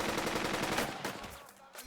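Sustained machine-gun and rifle fire from the World War I tactics game Burden of Command, a dense rattling burst that runs loud and steady before thinning out near the end.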